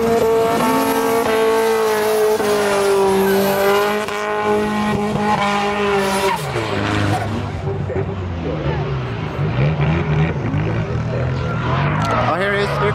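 Drift cars at a free public drifting event in Sweden roar past with engines revving, tires squealing and skidding, loud and continuous, with crowd noise and voices underneath.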